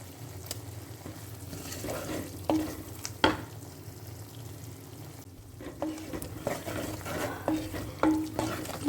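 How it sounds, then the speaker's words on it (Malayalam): Tomato sautéed into frying masala for a meat-style curry with potatoes and soya chunks, a low steady sizzle in the pan punctuated by scraping stirs and clinks from the spoon, close and moderately loud. "മസാലയിൽ ഒരു ചെറിയൊരു തക്കാളി ഇട്ട് കൊടുത്ത് ഒന്ന് വഴറ്റിയെടുക്കണം."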